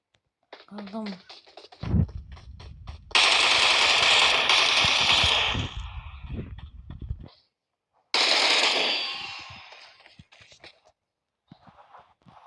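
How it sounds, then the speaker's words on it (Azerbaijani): Gunfire in a shooting video game, bursts of rapid shots and crackling reports in two long loud stretches, with someone talking in between. "orada atışma var idi"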